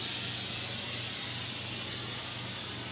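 Spray basting adhesive sprayed from an aerosol can onto a quilt layered over a pool noodle, a steady loud hiss running unbroken, close up and alone.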